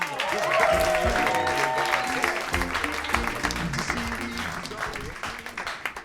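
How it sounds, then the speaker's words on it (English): An audience at a comedy roast applauds as Kyle Clark is introduced, a loud, sustained burst of clapping with cheers and whoops early on, gradually thinning out toward the end. "Give a big round of applause"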